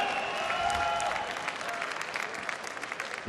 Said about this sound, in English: A big round of applause, come on!